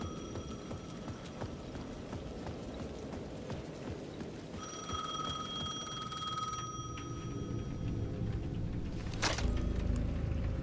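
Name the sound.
payphone ringing in video game Alan Wake 2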